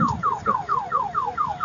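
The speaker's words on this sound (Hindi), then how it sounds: "ये इसके अलार्म भी लगे हुए हैं" A used car's alarm wails alone, loud and close, its siren sweeping downward in quick repeated cycles about every quarter second.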